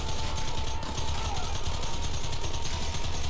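A Gatling gun in Red Dead Redemption fires in one steady, rapid mechanical rattle that runs the whole stretch, loud and close, with no pauses or voices.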